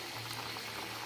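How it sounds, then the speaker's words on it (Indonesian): Oil heating in a pan to fry potatoes gives a steady, quiet bubbling sizzle, a faint continuous hiss heard up close with no talk. "kemudian panaskan minyak untuk menggoreng kentang"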